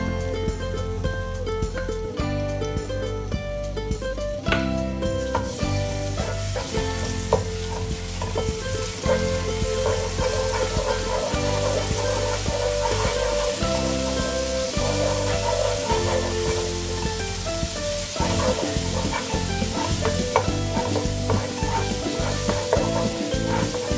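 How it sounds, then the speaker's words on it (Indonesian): Garlic fries in hot oil for chicken capcay soup, a continuous close sizzle with occasional stirring under steady background music. "sekarang minyaknya udah panas, kita bisa masukin bawang putih"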